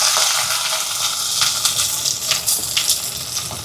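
Curry leaves, crushed onion, mustard seeds and green chillies sauté in a hot pan for crab rasam, giving a steady close sizzle with scattered crackles and pops throughout, and no voices.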